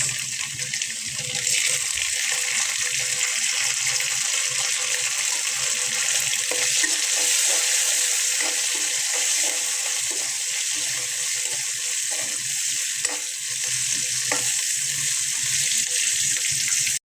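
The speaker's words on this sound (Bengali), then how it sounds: "পেঁয়াজটা ভাজা হয়ে গেছে" Onions with salt and green chilies fry in a pan, giving a loud, steady hiss like running water, with soft stirring scrapes underneath, no talking.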